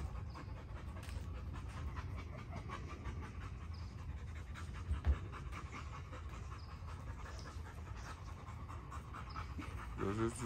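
A dog pants steadily and rapidly at close range, rhythmic breaths continuing throughout with a low rumble of background noise.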